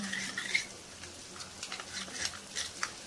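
Yogurt stirred and whisked with ground coriander and cumin in a bowl, giving soft, quiet scraping and wet patter at close range, with no voices.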